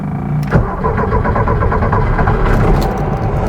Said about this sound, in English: Let's see if it fires up first.